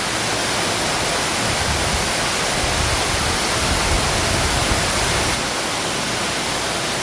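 A powerful underground cave waterfall, 9 m high and 85 m wide, roars continuously, a dense, loud rushing wash of falling water that fills the space without pause.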